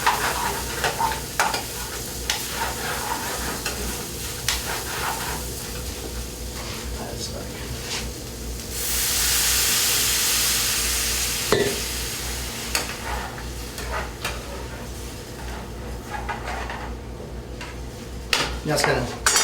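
Rice grains stirred and toasted in a hot pan, a steady sizzle with scraping stirs and occasional clinks of utensils against the pan, with a louder burst of frying partway through and people talking over it.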